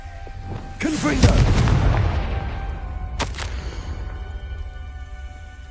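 A Confringo fire spell blast goes off in the video game Hogwarts Legacy, a sharp fiery burst that swells into a loud roaring boom and fades, followed by a second brief crack a couple of seconds later.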